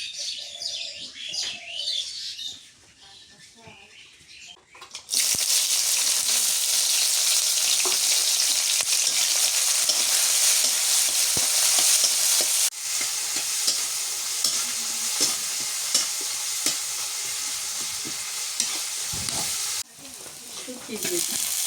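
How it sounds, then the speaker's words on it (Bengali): A village curry of dried fish, potato and pumpkin greens fries and is stirred in a pan, loud, continuous sizzling with scraping, cutting off twice; birds chirp at the start before the frying takes over. "শুটকি দিয়া, আলু দিয়া, মিষ্টি কুমড়ার শাক দিয়ে একটু ঝোল রান্না করি।"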